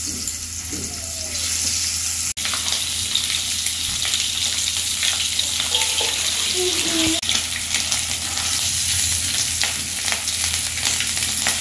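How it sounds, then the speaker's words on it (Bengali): Eggs frying in mustard oil with turmeric and salt for a dhaba-style Punjabi egg curry, a steady, close, broadband sizzle running the whole time with a few brief clinks of stirring and no talk. "ভাজা হয়ে গেছে, লাল করে ভেজে নিয়েছি।"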